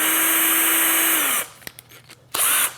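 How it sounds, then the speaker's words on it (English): A power drill with a number 30 bit boring into the induction-hardened table of a PM-940 milling machine; a loud, steady whine that winds down, a few clicks, then a second short burst of drilling. "so I've got a number 30 drill here"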